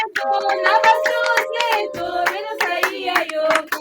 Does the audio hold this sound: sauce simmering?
no